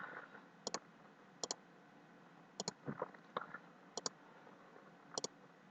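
Computer mouse clicks on a PC in a game menu come as sharp, quiet double clicks at irregular intervals, close and isolated against a faint background.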